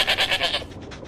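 Goat bleating in a short run of quavering calls from a farm animal, fairly close and clear, with no talking over it.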